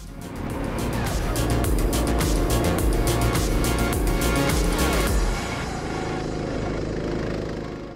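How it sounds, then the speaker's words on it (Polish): Go-karts with Honda engines running on the Pitstop Gdańsk karting track, a loud dense engine drone with rattling, clattering transients and tyre noise that continues steadily before easing slightly toward the end. "Nasze karty są wyposażone w sprawdzone silniki renomowanej marki Honda."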